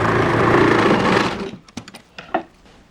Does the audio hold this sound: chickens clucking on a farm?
no